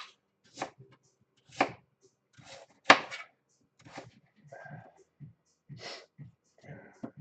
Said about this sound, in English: Just dicing down. Want the sweet potatoes to be, you know, like a moderate cube.